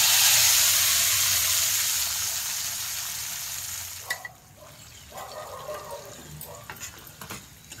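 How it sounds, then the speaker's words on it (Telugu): Hot oil tempering with garlic and curry leaves poured into cooked tomatoes for tomato pachadi, a loud broadband sizzle that fades over a few seconds into quieter clinks and stirring taps. "ఇప్పుడు రెడీ అయిన తాలింపుని టమాటోలో పోసుకోవాలి"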